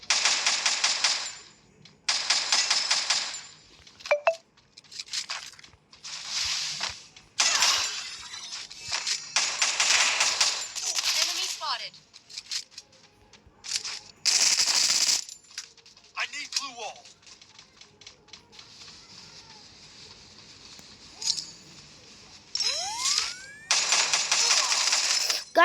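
Rapid automatic gunfire in a multiplayer shooter video game crackles in dense bursts separated by short gaps, and a player talks over the shooting throughout.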